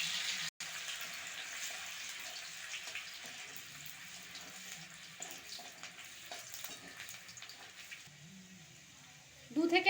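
Chopped garlic and ginger frying in hot oil in a wok for restaurant-style chili chicken, a steady close hiss and crackle with occasional stirring clatter, sharp clank near the end.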